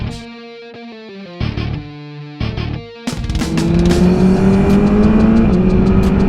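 A motorcycle heard from the rider's seat, the engine idling and blipping in short bursts, then revving hard and pulling away into a loud sustained drone with wind noise as it rides off.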